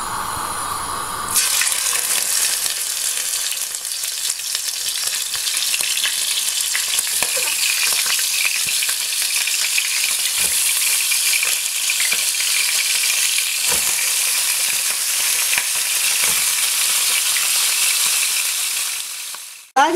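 Chicken sears in a very hot pan, starting with a sudden loud burst of sizzling that holds as a dense, steady hiss, broken by a few faint clicks and scrapes before cutting off abruptly.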